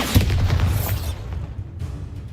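Bombarda spell explosion in the video game Hogwarts Legacy: a loud, close boom with a sharp onset that settles into a rumbling low tail lasting about two seconds, with no talk over it.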